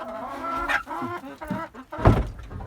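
Several chickens cluck and squawk close by, a busy overlapping chorus with one louder squawk near the end.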